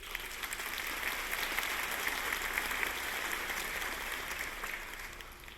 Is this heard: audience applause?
yes